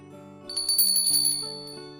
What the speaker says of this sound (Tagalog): Kampanilya ito.